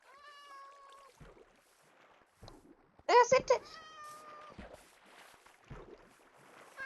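Several cats meowing in a Minecraft-style video game, a string of clear mews with one loud burst midway, someone talking over them.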